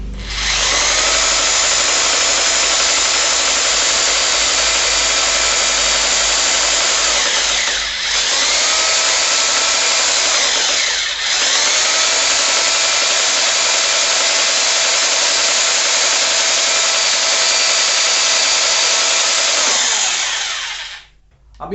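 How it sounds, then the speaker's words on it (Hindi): An Aimex DT-226 SDS Plus rotary hammer drill boring through a 4 mm metal plate with a 5 mm bit gives a loud, continuous high whine, broken by two brief dips before it winds down at the end. "अभी आप देख रहे हैं जब मैं ड्रिलिंग कर रहा हूँ"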